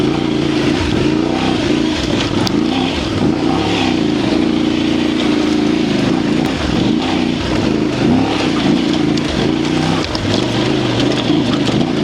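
A Voge DS800X motorcycle engine rumbles loudly and continuously through gear changes, its pitch rising and falling as the rider accelerates and shifts, with steady wind noise throughout.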